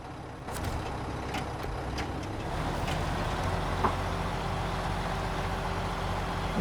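Truck engine in Snowrunner, a steady low rumbling drone that climbs a little in level as the gear goes up, with faint clanks early on.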